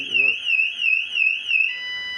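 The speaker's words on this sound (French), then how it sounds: "Il y a une alarme qu'on peut déclencher pour augmenter la sécurité" An electronic anti-theft alarm on a CUBE Reaction bicycle wails in a rapid rising-and-falling siren pattern, loud and close, then settles into a steady tone.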